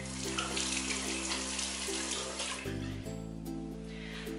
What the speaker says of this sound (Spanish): vamos a volver a enjuagar y a secar con nuestra toalla